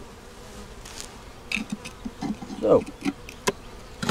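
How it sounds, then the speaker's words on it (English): Forager honeybees flying around a deep eight-frame hive, close, varied buzzing passes of individual bees rising and fading over a quiet background. "these bees are the bees, the foragers, that'll have a place to come back and land"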